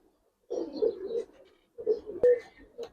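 Giribaz pigeons coo in two short bursts of soft, low, throaty calls separated by a pause, close by and fairly faint, with a brief click between them.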